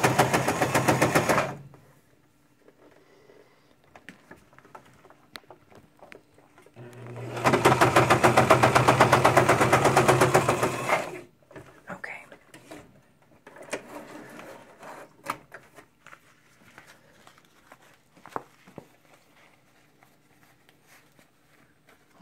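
A sewing machine stitches through thick layers of moccasin leather in short bursts, a dense mechanical whir at first and then a longer louder run, followed by quieter clicks and handling noises.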